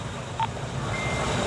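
A reversing truck gives a single short, clear electronic beep against a steady background hum of engine and street noise.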